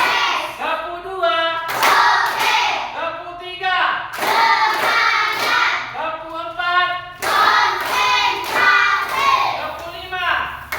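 Children clap hands in a classroom clap game, loud bursts of rapid claps in rhythmic groups between pauses, with children's voices calling out alongside.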